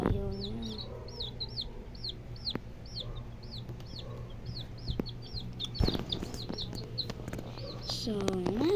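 Chickens fed cooked rice cluck and chirp nearby in a quick repeating rhythm, with occasional pecking taps and faint talk in the background.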